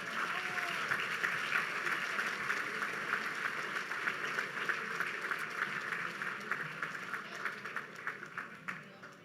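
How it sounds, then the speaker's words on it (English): Applause at a university athletics awards ceremony honouring the male athlete of the year, a sustained crowd clapping at moderate distance that tapers slightly near the end, with a faint voice beneath it. "One more round of applause for Mr."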